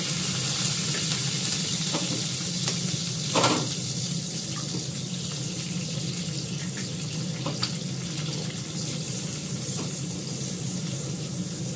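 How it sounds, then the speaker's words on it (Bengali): An egg frying in a pan, giving a steady, close hiss of sizzling oil that stays even throughout, with a few faint clinks and bumps from the kitchen. "ডিমটাকে প্রথম ফ্রাই করে নামিয়ে নেব।"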